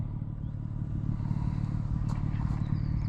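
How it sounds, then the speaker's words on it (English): A BMW M3 G80 with a manual transmission idles in a steady low rumble outdoors, the tone rising and thickening slightly as the revving builds, with faint clatter on top. "let's find out what M sound mode really does while revving in each of the modes"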